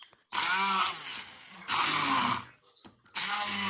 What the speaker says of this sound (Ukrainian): Блендером сливи перебиваю м'якоть і м'якоть зливаю в ємкость.